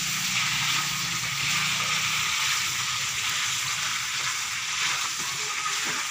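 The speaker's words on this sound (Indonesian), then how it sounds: "Lagi masak ayam, goreng ayam." Soft, steady sizzling and crackling of chicken frying in a pan, faint and close, with occasional small pops.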